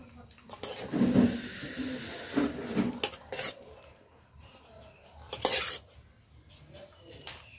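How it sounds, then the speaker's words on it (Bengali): Spoonfuls of cooked rice are scooped and served from a pot, with scattered metallic clinks and scrapes of utensil against cookware and soft rustles between them. "তোমরা দেখতে পাচ্ছ এখানে ভাত বাড়ছে মা"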